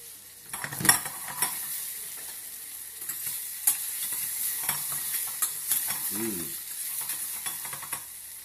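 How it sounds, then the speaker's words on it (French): Caramel with a small knob of butter cooks in a pan, with repeated spoon scrapes and stirs over a soft, steady sizzle, close and moderately loud, with no talking. "le caramel commence légèrement à colorer."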